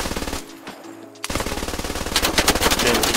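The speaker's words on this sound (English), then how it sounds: "Shooting out of the hip goes pretty wild." A G3 rifle fires from the hip in the game Squad in rapid full-auto bursts, a loud, close string of sharp cracks with a short pause before a longer unbroken volley.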